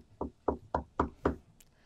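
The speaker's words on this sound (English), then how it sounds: "I'm knocking on wood." Knuckles knock on wood five times in an even, quick rhythm, each rap close and crisp, heard alone with no talk.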